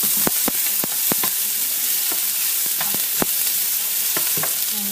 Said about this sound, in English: Now you just have to saute them, making that till the onions is transparent or translucent.